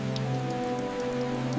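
Steady rain patters down on surfaces in Grindelwald, a Swiss mountain village, a constant close hiss with a low, even hum running beneath it and no voices.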